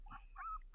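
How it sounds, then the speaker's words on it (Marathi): A puppy whimpers in a few short, high whines, close by and fairly soft, with a steady low hum underneath. "आता माझं आहे बघा एक पिल्लू टॉमीचंच आहे"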